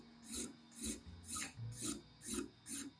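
A razor file shaping an acoustic guitar nut held in a nut vise: six steady back-and-forth rasping strokes in an even rhythm, close and clear, with no voices.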